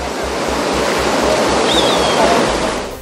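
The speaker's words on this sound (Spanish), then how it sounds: "El río que por años vio crecer a estas familias campesinas y cuyo sonido los arrulló tantas noches" Rushing river water beside a farming community, a steady, loud, broadband roar filling the whole stretch with no talking heard.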